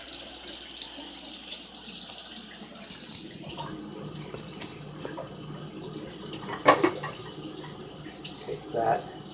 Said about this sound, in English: Run some water here while I'm doing this.